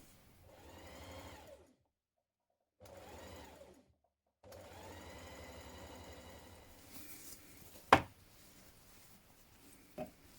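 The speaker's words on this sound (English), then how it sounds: "We're going to stitch this seam in place" A sewing machine stitches a seam on a dress in three steady runs separated by short pauses, followed by a couple of sharp clicks and taps near the end.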